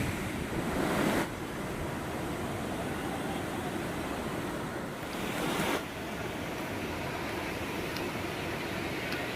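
Ganesh waterfall at Mankadban Jamanpada rushes in a steady broadband roar, with a couple of brief louder gusts of wind noise on the microphone, and no one speaks.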